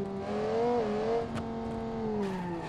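A very fast car's engine drones at high revs and holds a steady whine with one dip as it shifts gear, loud and close, with no voices over it.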